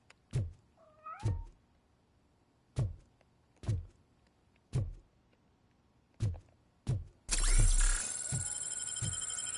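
A cat meows repeatedly, about eight short calls spaced a second or so apart, close by; a loud mechanical whir starts near the end.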